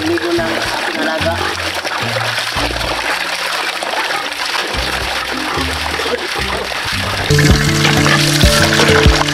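Water is poured and splashed over a carabao during its bath, continuous splashing and pouring that swells louder near the end, with voices talking over it.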